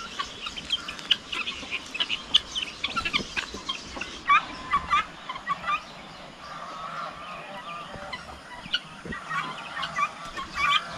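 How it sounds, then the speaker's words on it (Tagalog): Farmyard hens and other poultry gathered beneath a pigeon coop keep up a busy, overlapping chorus of clucks and squawks, close and continuous throughout, with no talking. "May ilang inahin tayo na manok na natira"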